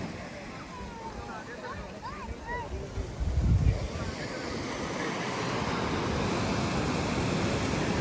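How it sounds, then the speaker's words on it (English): Ocean surf at Arambol beach in Goa, India, with waves around two feet breaking in a steady wash of noise, wind buffeting the microphone and a louder surge midway; faint voices may sit under the roar. "the surf here is 2 feet, maybe more"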